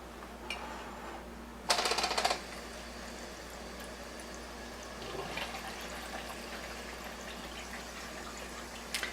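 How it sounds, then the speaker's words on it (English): Water from the acid hose of a machine being cleaned runs into a cup with a quiet, steady trickle and a brief louder splashy burst near the start, all at low level with no talk. "And I'm going to turn the water back on."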